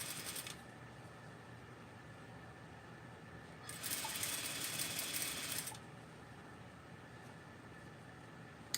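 A sewing machine stitches ribbon in two short runs of rapid, steady mechanical whirring, the second longer and louder, set against a quiet room.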